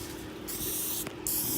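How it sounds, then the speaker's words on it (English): A spray bottle hisses over the sticky board of a glue trap holding a water snake, giving two short bursts of spray close to the mic. "you also want to spray the rest of the board that's sticky"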